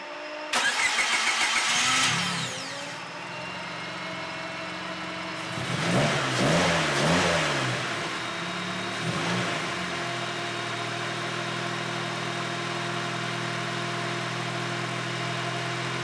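A turbocharged D16 Honda Civic engine, freshly fitted with a new head gasket and ARP head studs, cranks and fires, gets a quick burst of revs, then drops to a steady idle nearby.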